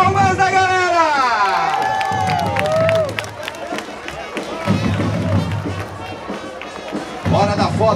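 Crowd at the podium ceremony of the 2023 Holambra tourist road race applauding and cheering trophy winners, with an announcer's amplified voice and whistles over the scattered clapping, near and lively throughout.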